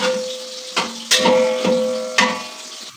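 Onions sizzling in three quarters of ghee in a pot for black chana pulao, with a steady frying hiss and a few scraping stirs and clinks, alone and moderately close.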